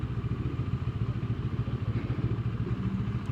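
A Moto Morini Seiemmezzo 650 Scrambler motorcycle engine pulls away through a gear change, a steady mid-pitched thrumming engine note running loud and close throughout with a faint clack near the end.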